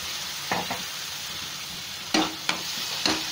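Masala paste fries on a high flame with a steady sizzle, broken by several quick spatula scrapes and clacks against the pan, the last ones bunched near the end.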